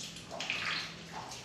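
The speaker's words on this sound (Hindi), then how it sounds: "यहाँ पानी आ रहा है" Water runs and splashes inside a temple at Kalinjar Fort, a soft continuous flow with gurgling swells, heard fairly faint and close with no talk.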